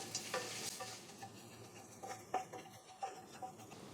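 Turmeric, coriander and chili powder being stirred in a pan over a low flame, a faint soft sizzle with a few light scraping strokes, quiet and close, no talk.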